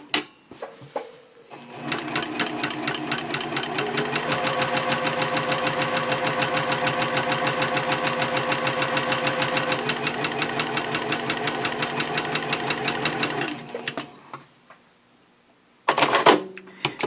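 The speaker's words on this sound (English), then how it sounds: "Then I'll pivot again and sew up the other side." A sewing machine runs in one long, fast burst of rapid, even stitching through a quilted A5 journal cover, starting and stopping cleanly, with a brief restart near the end.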